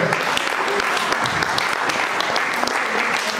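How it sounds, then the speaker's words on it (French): A church congregation applauds the Lord in a sustained, dense wash of clapping that stays steady and loud throughout, with voices faintly mixed into the crowd. "On l'acclame le Seigneur."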